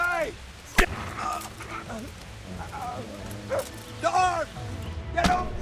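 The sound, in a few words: dog barking in video game Kingdom Come Deliverance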